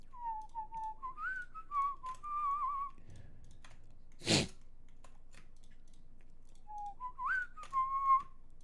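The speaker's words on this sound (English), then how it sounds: "I got a little too precocious with my whistling." A person whistles a short rising and falling tune, then a single sharp sneeze bursts out near the middle, followed by more whistling; close and fairly quiet, with faint clicks between.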